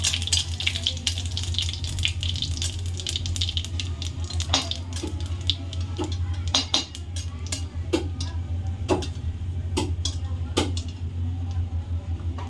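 Cumin seeds fry in a hot kadai for a kochur mukhi (taro) dish, making a steady, close sizzle dotted with scattered sharp pops and crackles throughout.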